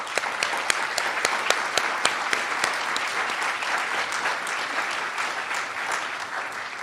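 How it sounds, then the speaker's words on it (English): Sustained audience applause at a climate summit, steady and fairly loud, with sharp individual claps standing out near the start before settling into an even wash of clapping for the full length. "Let's applaud these young people."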